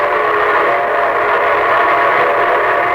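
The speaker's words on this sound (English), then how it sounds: "that's the signal a locomotive engineer blows when his train is approaching railroad stations, junctions, and railroad crossings" A locomotive whistle sounds a sustained, loud, steady tone with a train rumbling beneath it, unbroken for the whole stretch and with no voices.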